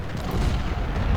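Artillery fire from 12-pounder cannons in the Ultimate General: Civil War game at the Second Battle of Bull Run, a loud, dense rumble of booming shots with no break.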